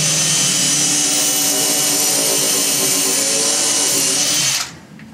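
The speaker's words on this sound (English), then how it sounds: "Simply take your drill with a taper bit and a countersink and drill through your layout mark." A power drill with a taper countersink bit drills through wood, whining at high speed, close and loud, running steadily for several seconds before stopping abruptly.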